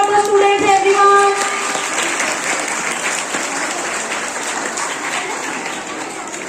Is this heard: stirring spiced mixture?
no